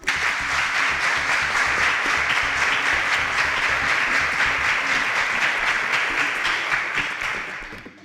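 Studio audience applause on a televised quiz show, dense continuous clapping at strong volume that holds steady for several seconds before tapering off at the end.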